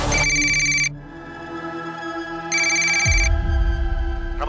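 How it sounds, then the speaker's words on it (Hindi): A telephone rings in loud, repeated electronic bursts with pauses between, standing alone without any talking. "अब रमाकांत को फोन कीजिए साहब प्लीज।"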